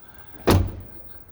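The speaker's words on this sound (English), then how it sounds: "Open the rear door," The rear door of a Dreamer D43 campervan, a tiny van with a roof tent, opens with a single sharp thud followed by a short fading rattle, close by.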